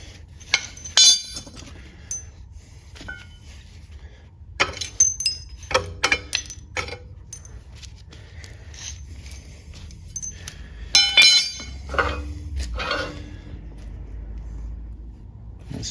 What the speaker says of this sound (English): Now we can just use our pry bar.